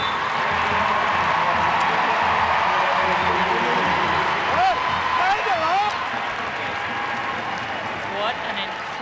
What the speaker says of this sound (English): let's hear the applause for Amy Rodriguez